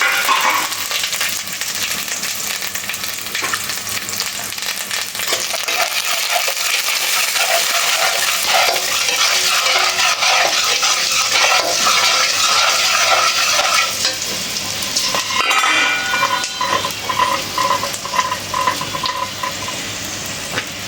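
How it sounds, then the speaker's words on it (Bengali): Spices with salt, turmeric and chilli powder sizzle as they are stir-fried for a fish-head muri ghonto, a continuous close frying hiss broken by stirring scrapes and small clinks of the utensil. "আর মশলাটা আমার খুব ভালোভাবে কষানো শেষ।"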